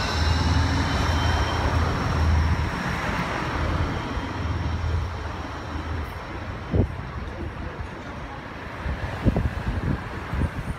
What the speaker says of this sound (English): G-Link 12 now departing for Broadbridge South.